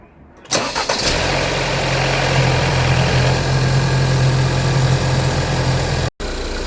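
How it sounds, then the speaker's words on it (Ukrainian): A car engine cranks and catches during a home oil change, then settles into a steady, loud idle with a low rumble that runs on without change. "Зараз я заведу авто, воно попрацює десь хвилинку"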